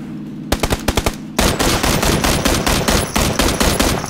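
Loud gunfire in PlayerUnknown's Battlegrounds opens with a short burst of single shots, then rapid sustained automatic fire crackles close and steady to the end.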